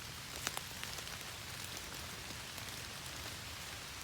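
Steady rainstorm outdoors during mushroom picking, a dense, even hiss of rain falling on surfaces with scattered sharper drop impacts, continuous throughout.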